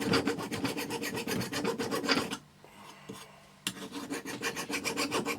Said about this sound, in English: I'm just going to see if I can file away as much of that solder as I can.